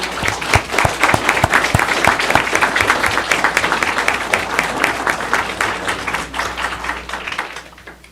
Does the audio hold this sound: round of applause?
yes